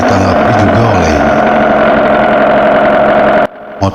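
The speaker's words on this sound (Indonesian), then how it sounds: "Motor melaju semakin kencang." A loud, close motor engine runs at a steady high drone for several seconds and then cuts off abruptly near the end.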